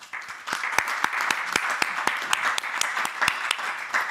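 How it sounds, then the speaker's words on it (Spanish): An audience at a panel on climate emergency and mobilizations applauds, with sharp individual claps standing out over a steady bed of clapping that swells after a quieter start and stays even. "merecido aplauso"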